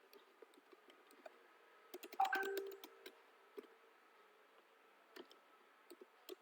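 Quiet, irregular clicks of typing on a computer keyboard, with scattered single keystrokes and a short denser flurry partway through, close to the microphone and with no speech.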